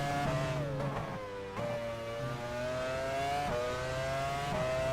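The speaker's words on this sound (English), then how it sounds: "I thought somebody was coming up really behind me, like with a louder engine." Race car engine in F1 Challenge 99-02 during the 2000 Austrian Grand Prix, a loud sustained whine that climbs in pitch, drops sharply at gear shifts, then climbs again.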